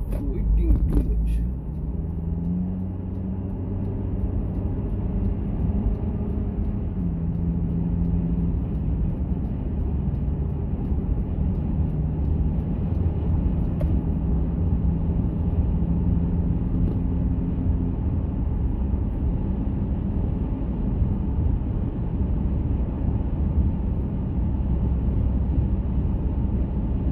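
A car drives along a windy highway, its steady engine and road rumble mixed with wind buffeting, loud and continuous from inside the vehicle throughout.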